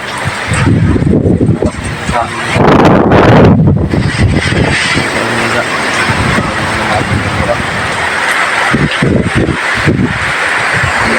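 Strong gusty typhoon wind with rain during Typhoon Kristine roars and buffets continuously, loud and close, with surges of rushing noise and rain-like hiss throughout.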